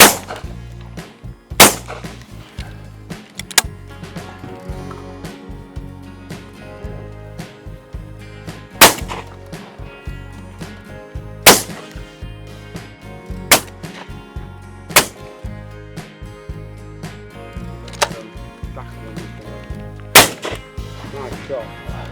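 Shotgun shots at pigeons, with sharp loud cracks spaced every few seconds out in the open, over a low steady background hum.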